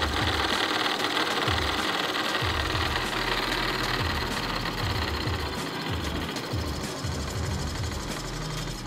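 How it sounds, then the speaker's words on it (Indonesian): A small electric motor on an energy-conversion demo kit whirs steadily and loudly, spinning fast with a continuous buzzing drone and faint rhythmic knocking throughout, with no talking. "semakin besar beda potensialnya, maka kecepatan dari motor listrik ini akan semakin cepat"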